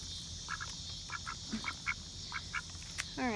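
Ducks quack in short, close bursts, several calls spaced irregularly across a few seconds over steady background hiss, with a longer rasping call at the end.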